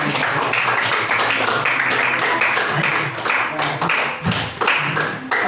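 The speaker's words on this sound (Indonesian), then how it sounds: "beri tepuk tangan untuk" A class audience during a music-education session claps together, a fairly loud, steady patter of many hands that thins briefly near the end, with faint voices mixed in.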